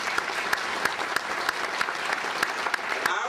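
A conference audience applauding a keynote address, dense sustained clapping from a large crowd with a few sharp individual claps standing out, no talking.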